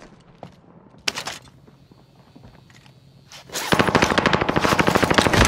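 Automatic gunfire in Call of Duty: Modern Warfare, first a couple of brief bursts, then a loud, sustained rapid rattle of machine gun fire filling the last couple of seconds.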